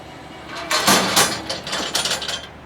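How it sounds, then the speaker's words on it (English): Access ladder on a Gleaner T-Series combine lowering, a series of mechanical clunks, scrapes and rattling bursts close by, rising and falling over a couple of seconds without any voices. "You know, Aaron, I just noticed something there as the ladder came down."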